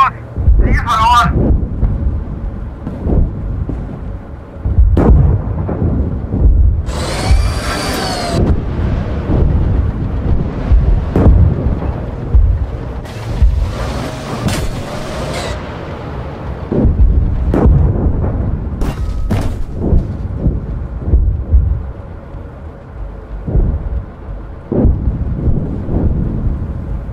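Heavy T-55A or T-72M tank cannon blasts boom out several times in a video game, with rumbling, explosive crashes, alongside wind-like noise and German crew voices talking over them.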